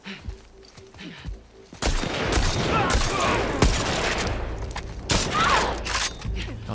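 Rapid gunfire and bursts of automatic fire in The Last of Us Part 2, starting abruptly after a quieter stretch with a few faint shots and continuing loud and dense, with sharp individual reports cutting through.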